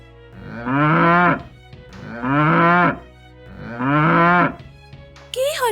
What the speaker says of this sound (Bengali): গরুদা এভাবে ডাকছে কেন?